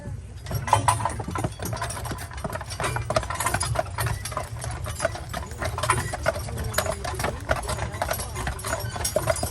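Horses pulling a tour carriage up a very big hill, hooves clip-clopping in a steady walking rhythm throughout, close and fairly even, with engine-like rumble and faint murmuring in the background.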